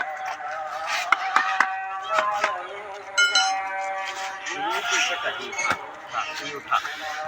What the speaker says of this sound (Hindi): घोड़े का नाल ठुका रहा।